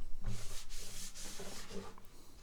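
A cloth rubs briskly across the solid cedar body of a 12-string guitar in several quick back-and-forth strokes, close and soft, with no talking.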